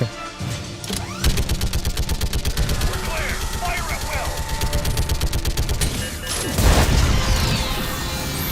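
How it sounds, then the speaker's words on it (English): A mounted machine gun turret in Mass Effect 3 Legendary Edition fires a long, rapid burst of evenly spaced shots for several seconds, close and loud, followed by a heavy impact boom, with a voice talking at times. "this machine gun will definitely work"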